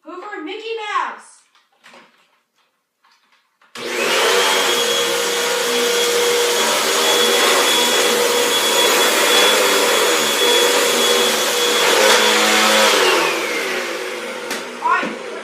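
A Hoover vacuum cleaner is switched on and runs with a loud, steady motor whine and airflow roar for about ten seconds, after brief talk and a pause of silence.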